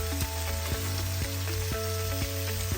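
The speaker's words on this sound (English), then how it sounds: "Sear each side for about 2 to 3 minutes until it's beautifully browned." Beef cubes sear in a single layer in a hot pan for Mexican beef soup, a steady close sizzle with a sustained hum and a few soft, regular clicks.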